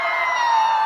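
A festival crowd at Kalyan Mahotsav 2025 cheers and shouts in a dense, sustained roar that holds steady and loud for the whole moment, with no clear individual voices.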